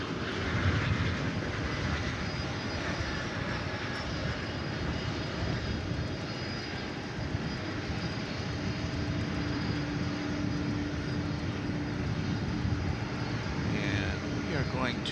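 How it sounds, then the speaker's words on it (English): A CRJ 701ER regional jet passes at DFW Airport, its engines making a steady, loud broadband roar that stays constant throughout, with faint voices in the background. "Here comes a CRJ 701ER from Colorado Springs"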